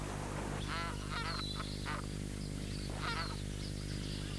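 Magpie geese honk repeatedly in wetland at Fog Dam in Australia's Northern Territory, a run of loud nasal calls over steady low background hum, with more distant honks trailing off.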